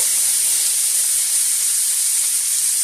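Celery and onion sizzle steadily in about two tablespoons of hot avocado oil over medium heat, a constant bright frying hiss with no pauses and no talking.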